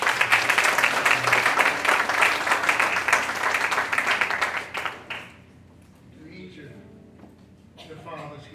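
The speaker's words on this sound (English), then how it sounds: "Give Him a hand clap of praise." A congregation in a house of worship claps hands in praise, a loud, dense, steady applause lasting about five seconds before fading into softer murmuring voices.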